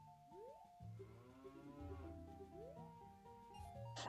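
A cow in The Legend of Zelda: Ocarina of Time gives a few drawn-out, wavering moos over steady game music, each low call swelling and bending in pitch across the stretch, with no talking.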